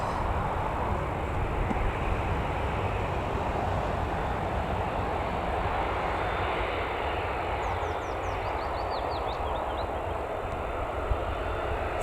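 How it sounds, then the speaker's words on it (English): A Jet2 airliner taxis out toward the runway at Newcastle Airport, its steady engine roar a broad continuous rumble with no talk, and faint high bird chirps briefly cut in near the end. "Jet2.com heading out now to the runway"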